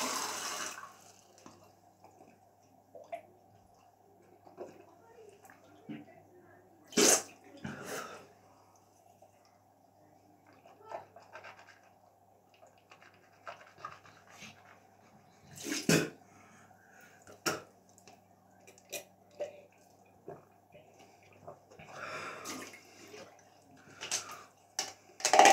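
Water rinsing and spitting at a bathroom sink after brushing teeth, heard as scattered splashes, drips and short mouth sounds over a low steady hum, fairly close and quiet, no talking.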